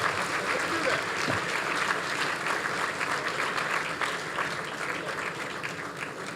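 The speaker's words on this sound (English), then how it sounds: "Just keep clapping." Sustained applause from a large gala audience fills the room steadily, dense and continuous throughout, with voices faintly mixed in.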